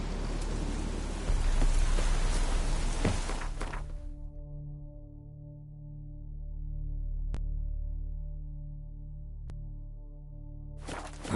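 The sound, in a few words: rain in the video game The Witcher 3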